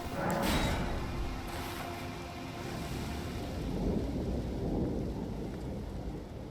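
Thunderstorm with steady heavy rain in the video game Elden Ring, a broad continuous wash of rainfall with a rumbling roll of thunder, loud and close throughout, with no talking.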